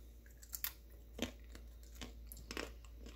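Someone chews crunchy home-dried zucchini chips made from summer squash, producing soft, close crunches and crackles at irregular moments over a quiet background.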